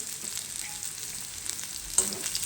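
Long-cut cabbage sautéing for veg noodles, a steady bright sizzle with occasional soft stirring scrapes and one sharper clink near the end, close and continuous, with no talking.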